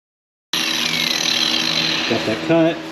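A power tool cuts through the exhaust pipe of a 2014 Nissan Pathfinder during a repair, a loud, steady grinding whine that starts abruptly and runs continuously, with a voice briefly heard near the end.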